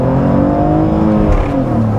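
BMW E46 330ci pulling away from a 2000 RPM launch, the engine note climbing steadily and loud from inside the car with a smooth rising drone.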